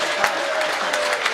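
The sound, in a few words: audience applause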